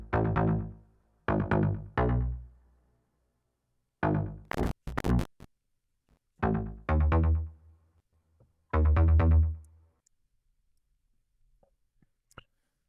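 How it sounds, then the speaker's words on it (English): Modified Serum preset used as a gritty mid-bass fill-in instrument in a pre-chorus of a Christmas song plays short, punchy sustained notes in phrases, with silent gaps between them and no voices. "What we also have is got a mid-bass sort of fill-in instrument."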